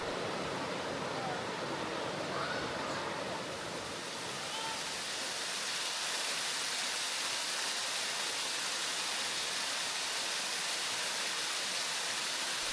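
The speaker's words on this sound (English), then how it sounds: "A Deep Creek hike isn't complete without taking a moment to appreciate Tom Branch Falls." Tom Branch Falls on Deep Creek pours in a steady, dense broadband rush of falling water, constant and fairly close, with no other sound standing out.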